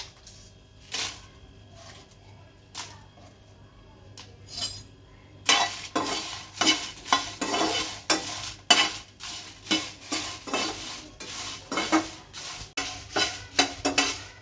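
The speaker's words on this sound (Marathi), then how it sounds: "लाल सुक्या मिरच्या आहेत त्या पण परतून घेणार आहे" Dry red chillies roast in a pan with repeated scraping stirs, quiet at first and then a run of loud, rhythmic spatula strokes against the metal, close and alone.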